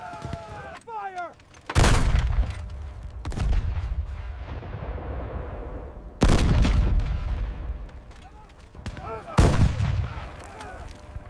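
Battle of Arnhem combat: heavy artillery booms and gunfire crashing in loud repeated blasts, each with a long rumbling decay, with shouted voices between them.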